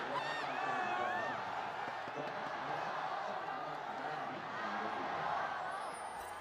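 Esports arena crowd at an LPL Spring 2021 grand final between FunPlus Phoenix and RNG, with continuous loud cheering, whooping and roaring throughout, the noise of a large audience filling the hall with some speech mixed in.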